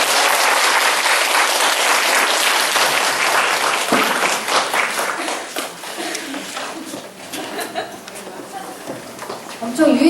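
Hot applause from a church audience at a parent-education session, dense clapping that is loud at first and gradually thins and fades.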